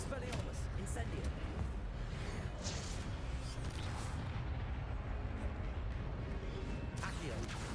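Spell-casting effects from the Hogwarts Legacy video game form a continuous roaring, whooshing wash of blasts and crackles, loud and dense throughout, with a voice heard faintly in the mix.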